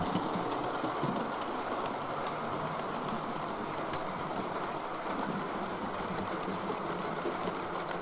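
Model railway locomotive Bongrace running back into the fiddle yard, a steady rolling rumble and rail clatter held at an even level throughout, fairly faint and without talk.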